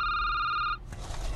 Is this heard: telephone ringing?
yes